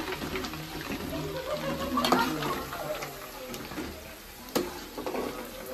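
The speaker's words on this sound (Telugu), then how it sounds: "చూడండి, చికెన్ పీసెస్ అన్నీ ఇలాగా గోల్డెన్ బ్రౌన్ వచ్చేలాగా వేపుకోవాలన్నమాట" Chicken pieces fry in hot oil for chicken pickle, giving a steady close sizzle with occasional stirring scrapes and clicks.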